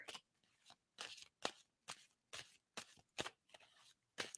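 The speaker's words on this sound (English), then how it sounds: "I'm going to stop shuffling" A deck of tarot cards is shuffled by hand in quick riffling bursts, about ten crisp rustles at a steady rhythm with short pauses between them.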